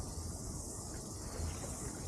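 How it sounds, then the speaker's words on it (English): Cicadas creak and buzz up in the trees along a quiet river on a hot day, a faint, dense, continuous high-pitched drone with no talking. "Now you can hear up in the trees that we've got the cicadas, which is those lovely creaking noise you can hear."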